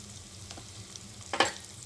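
Potato pieces with turmeric fry in a pan, a soft low sizzle with a couple of stirring scrapes, the louder one a brief rasping sweep near the end.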